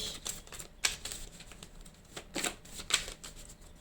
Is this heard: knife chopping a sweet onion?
no